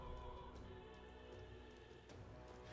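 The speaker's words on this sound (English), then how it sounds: "Ah, it's raining." Steady rain falling in the video game Metaphor: Re:Fantazio, a continuous soft hiss of drops on surfaces with faint low rumbling underneath, even and unbroken throughout.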